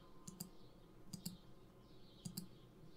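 Computer mouse clicks made while tracing a surface to measure its area in ImageJ, coming as three quiet, close double-clicks spaced about a second apart over faint background hiss.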